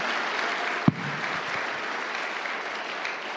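A church congregation at a Tagalog preaching service claps in a steady, dense wash of applause, with one sharp louder clap early on before the sound settles into an even, sustained patter.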